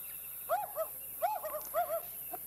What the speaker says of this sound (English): let me just hear what a wood owl sounds like